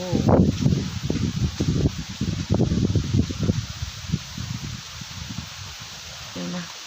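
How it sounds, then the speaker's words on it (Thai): Wind sweeps across open fields in a rural setting, heard as close, gusty low rumbling and buffeting that is strongest early and eases toward the end. "พักสักครู่หนึ่ง ฟังเสียงลมดีกว่า"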